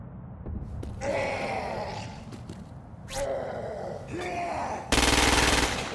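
Gunfire in the video game Crackdown 2, aimed at freaks, scattered bursts of shots separated by short pauses, ending in a loud sustained blast, with faint game groans between.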